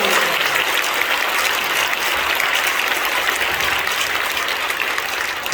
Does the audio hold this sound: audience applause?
yes